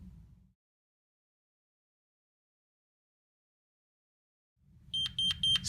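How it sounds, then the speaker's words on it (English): A security alarm system counts down its exit delay after arming, with a quick run of high electronic beeps coming in near the end after a long silence, over a low hum, close by and without voices. "When you first arm the system and you're hearing the exit beeps"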